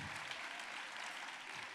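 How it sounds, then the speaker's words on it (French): Steady applause from an audience at a French thesis-presentation final fills the short stretch, a dense even wash of many hands clapping at moderate distance. "On les applaudit encore."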